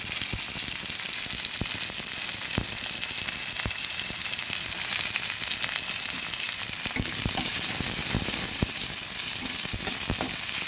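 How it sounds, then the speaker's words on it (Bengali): Chopped onions, two medium ones, frying in hot oil in a wok, with a steady loud sizzle throughout and occasional crackles and pops, and no talking. "তেলটাও গরম হয়েছে এবার দিয়ে দেব পেঁয়াজ কুচি"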